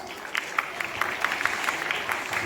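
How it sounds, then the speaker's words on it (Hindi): Audience clapping at a school Republic Day celebration after a performance, a steady wash of many hands with scattered louder claps, moderately near and continuous throughout. "Give them a big round of applause"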